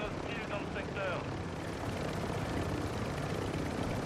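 Helicopter in a video game, a steady broadband rotor and engine drone that holds at an even loudness throughout, with a few faint tonal game sounds early on.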